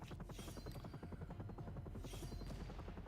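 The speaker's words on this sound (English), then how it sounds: "All the helicopters came in." Helicopters arrive in The Walking Dead: Road to Survival mobile game, a continuous rapid rotor chop with a buzzing engine drone holding steady throughout, with brief hissy swells layered on top.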